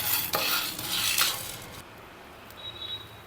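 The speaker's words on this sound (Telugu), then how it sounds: "1 టీ స్పూన్ మిరియాలను వేసుకొని వీటిని బాగా ఫ్రై చేయాలి" Black peppercorns frying in a pan, a close rattling sizzle with several spoon stirs and scrapes in the first two seconds, then quieter sizzling with a brief scrape near the end.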